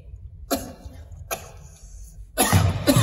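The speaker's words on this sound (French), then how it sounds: "Monsieur commence à tousser." A man coughs while choking on food, with two short, sharp coughs followed by a harsher, longer fit of coughing.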